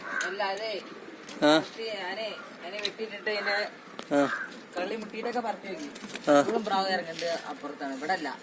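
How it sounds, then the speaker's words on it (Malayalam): Pigeons in a loft coo in repeated soft, throaty bursts close to the microphone, mixed with people talking nearby. "ഈ മൈനപ്രാവ് നല്ല രസമുള്ള പ്രാവാണല്ലോ"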